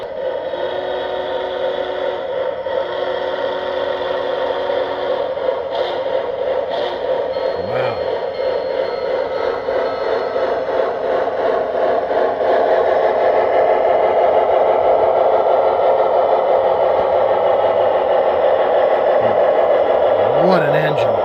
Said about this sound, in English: All right, Howard, give it a whistle blow and send her on her way.